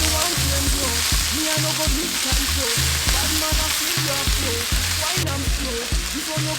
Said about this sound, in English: I'm just gonna mix everything together before I add my other ingredients.